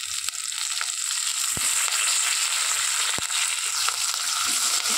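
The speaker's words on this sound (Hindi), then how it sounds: "इसको अच्छे से भून लेना प्याज और टमाटर" Onions and tomatoes frying in a pan for dhaba-style pasta with curry leaves give a steady, close sizzle with scattered crackles and pops, no voices over it.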